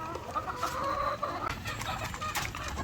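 Black Australorp hens clucking while being fed, a steady busy chorus of close clucks and soft calls from several birds, with no talk.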